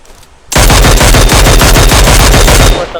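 Loud, rapid automatic gunfire bursts out in a video game after a brief quiet start, a dense string of close shots that stops just before the end.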